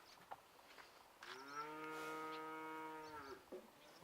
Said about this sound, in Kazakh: Мынау деген біздің көрші Ерғай деген жігіттің бұқасы ғой.